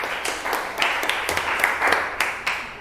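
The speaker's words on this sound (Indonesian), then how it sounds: "Tepuk tangan untuk Mani anak-anak" A classroom of students claps for a classmate, a dense patter of many hands lasting a few seconds with no pauses, close and fairly loud.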